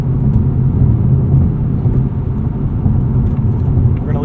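A 2024 Ford Mustang GT Coupe Premium with a 10-speed automatic is under way in sport mode, its engine a deep, steady rumble mixed with road noise, close and fairly loud, with no speech.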